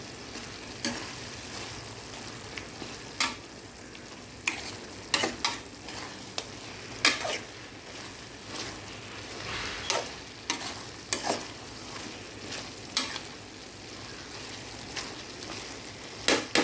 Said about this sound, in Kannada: ನಾನು ಮೂರು ಎಗ್ಗನ್ನು ಒಡೆದಿದ್ದೀನಿ ಇದಕ್ಕೆ ಹಾಕುವ ಹಾಕಿಬಿಟ್ಟು ಚೆನ್ನಾಗಿ ಮಿಕ್ಸ್ ಮಾಡಬೇಕು